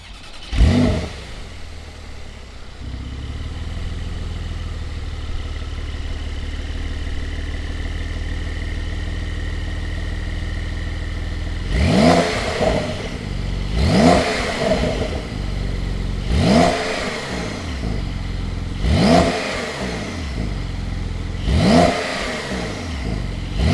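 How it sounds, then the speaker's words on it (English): 2020 Porsche 911 Carrera S engine starting with a sharp burst, then settling into a steady idle before a series of five or six quick, loud revs that rise and fall at close range. "Let's fire this up and you'll be able to hear why this 911 is really hitting the spot"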